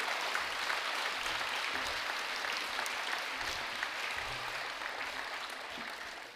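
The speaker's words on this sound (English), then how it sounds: "give a huge Gilson applause for Mr. Galtz" Students and staff give a long round of applause in the Gilson College chapel, a dense, continuous clatter of many hands that stays level for several seconds.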